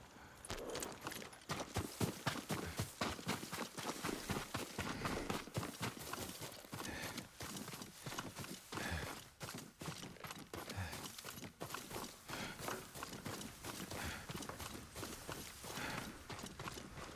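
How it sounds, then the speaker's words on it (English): Horse hooves clip-clopping steadily in the video game Ghost of Tsushima, a continuous, close, rhythmic patter of hoofbeats with no talk over it. "There's the horse. Yuriko's horse."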